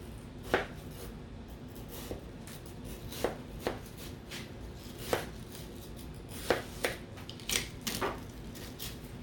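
A knife works through a watermelon, giving faint, irregular crisp cuts and taps against a board over a quiet room hiss, with no voices.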